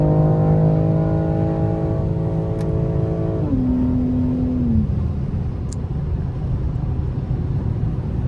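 BMW M4 Competition fitted with new downpipes, its engine note holding a steady pitch and then dropping sharply midway through like a downshift, before settling into a low rumble under broadband road or wind noise; no talking.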